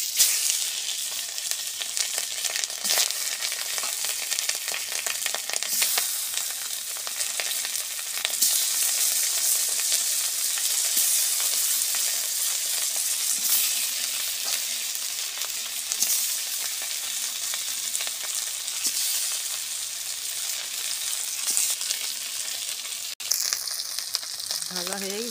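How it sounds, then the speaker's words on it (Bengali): Young hilsa (jatka) fish fry in hot oil in a village kitchen, a continuous close sizzle and crackle running throughout with a few sharp pops and stirring scrapes, ending with a brief clatter. "একে একে সবগুলো মাছ ভেজে নিব।"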